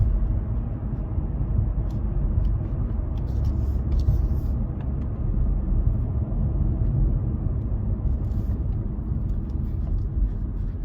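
A Hyundai Elantra rolls down a highway off ramp, giving a steady, loud low rumble of engine and road noise that holds evenly from start to finish with no voices.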